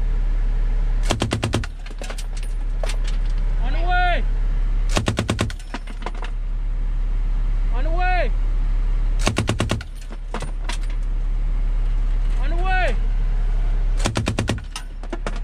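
Machine-gun fire on a Fort Dix range during army annual training: rapid bursts of loud, close automatic shots repeat every few seconds over constant vehicle engine rumble, with whistling sweeps between the bursts.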